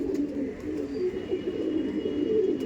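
Domestic pigeons coo softly and continuously nearby in a loft, a low rolling burble with no talking.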